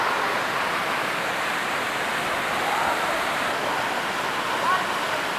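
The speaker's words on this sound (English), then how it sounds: "we are gonna actually go underneath that waterfall" A waterfall in Illinois pours with a constant, dense, close rushing roar that stays even throughout and leaves no pauses.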